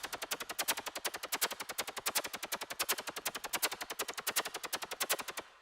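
A synth arpeggiator in MainStage runs an accented 8-beat pattern at speed, a fast, steady stream of bright, buzzy pulses with regular accents, repeating evenly throughout and fairly quiet.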